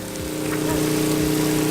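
Artificial rain sprayed on a film set makes a dense, steady hiss of falling water, accompanied by a constant pump-like drone underneath.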